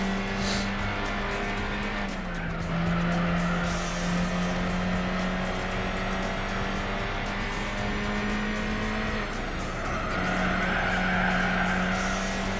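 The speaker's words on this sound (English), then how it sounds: "More drifting. And kissing the wall." A Renault Alpine race car in the video game Gran Turismo 4 drifts with sustained tire squeal over a steady engine drone, the pitch dipping and rising as it slides through corners, loud and continuous throughout.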